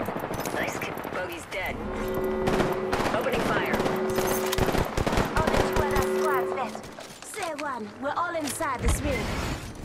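Video game gunfire rattles in rapid automatic bursts, loud and close, with mechanical clicks and in-game voice lines and chatter over the shooting.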